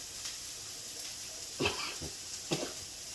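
Pepper, garlic and scallion sizzle in hot oil in a pan, a steady soft frying hiss with a few louder stirring scrapes, heard up close with no talk.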